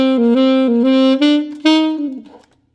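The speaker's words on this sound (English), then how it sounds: "So the first part of the lick sounds like this." A solo saxophone plays a short blues scale lick, a clear, close run of connected notes that rises, holds and then fades out.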